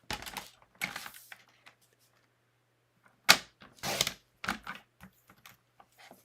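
Paper card stock being trimmed to 4 by 5 1/4 inches for card making, a few sharp, close cutting strokes in separate bursts with quiet gaps between them.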